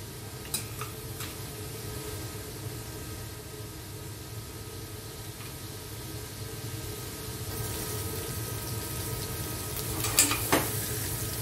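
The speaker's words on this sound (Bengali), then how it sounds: "মাছটিকে একটু নেড়ে চেড়ে ভেজে নেব।" Fish frying in a pan with a steady, soft sizzle while it is stirred now and then, with a couple of sharper scrapes near the end; it is part of making Italian spaghetti with tomato sauce.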